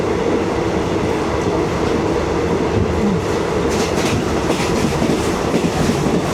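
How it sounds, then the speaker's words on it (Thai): Steady loud rumble of a train rolling along the tracks toward Penang, with a continuous low roar and faint rhythmic clatter of wheels, no voices. "รถไฟก็วิ่งเร็วมากด้วยนะ"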